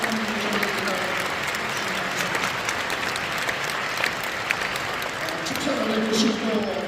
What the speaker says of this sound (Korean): 따뜻한 격려에 감사의 박수를 드립니다